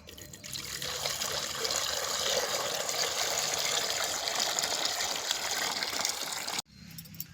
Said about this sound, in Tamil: சுத்தமான தண்ணி சேர்த்துக்கலாம்.